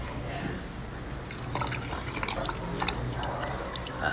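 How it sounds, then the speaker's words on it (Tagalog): Water pours into a glass that holds ice, a close, steady trickling and splashing that grows slightly busier midway, with faint dripping and some light background noise. "Tapos lalagyan natin ang tubig."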